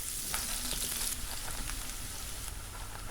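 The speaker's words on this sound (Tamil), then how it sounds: "இப்போது 1 கப் வெங்காயத்தையும் சேர்த்து நல்லா வதக்கி எடுத்துக்கலாம்." Onions frying in sesame oil in a saucepan, a steady, close sizzle with a faint crackle running continuously and alone.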